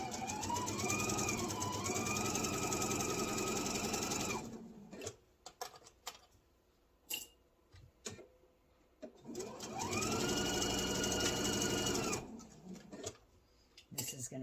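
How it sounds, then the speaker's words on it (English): Home sewing machine stitching down apron straps in a kitchen-print cotton apron, running in two long steady whirring bursts separated by a pause filled with small clicks and handling of fabric. "I'm going to sew all the way down to the next corner."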